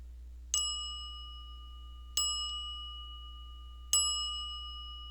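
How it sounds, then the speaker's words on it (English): A meditation bell rung three times at a slow, even pace, each clear metallic strike ringing out and fading gently into quiet, with no talking. "I'm going to ring the bell 3 times."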